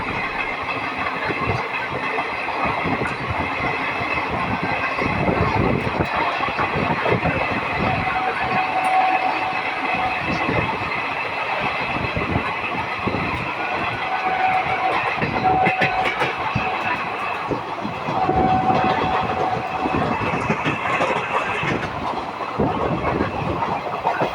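A crowded passenger train from Howrah to Bardhaman rolls steadily along the tracks, with continuous rumbling and rhythmic wheel clatter that swells and eases, heard from inside a carriage.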